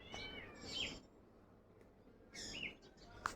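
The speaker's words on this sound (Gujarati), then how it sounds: "ચકલા અત્યારે જ્યાં દોરીને બેઠા હોય ને મસ્ત કિલકારી કરી રહ્યા છે." Sparrows perched on a line chirp in the morning, two bursts of sharp high calls separated by a quiet pause, fairly faint and without voices.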